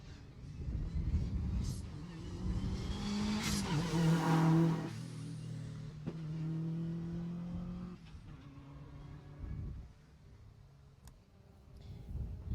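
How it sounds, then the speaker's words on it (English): Subaru Impreza rally car on a Jersey Rally stage approaches and passes close by, engine revving hard and rising to a loud peak, then fading as it pulls away, with a faint commentator voice over it. "Another Subaru Impreza there."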